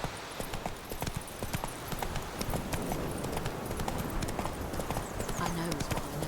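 The horse Roach's hoofbeats in The Witcher 3, a rapid rhythmic clip-clop of a galloping or trotting horse, continuous and close, with a voice talking over it.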